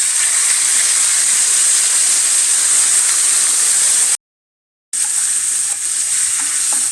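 Chicken pieces dropped into a hot pan with fennel seeds and curry leaves, giving a loud, steady hissing sizzle that cuts out briefly before resuming, with no voices.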